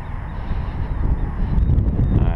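Geese honk repeatedly and fairly close beside a fishing pond, their calls overlapping against some wind noise.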